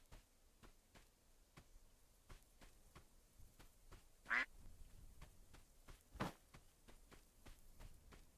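Two short duck quacks from a video game, spaced apart over a steady background of soft ticking game sounds.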